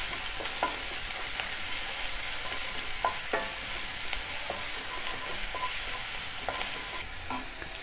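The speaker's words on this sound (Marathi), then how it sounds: "कांदा थोडासा ट्रान्सपरंट होईपर्यंत परतायचं" Chopped onion is stir-fried quickly in oil over a high flame for gobi manchurian, with a constant loud sizzle and repeated clicks and scrapes of a spatula against the pan, and no talking.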